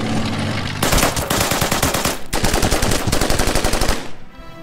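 Gunfire in the wargame Order of Battle set on the Burma Road, rapid machine-gun bursts in loud rhythmic volleys with a short pause midway, then cutting off abruptly.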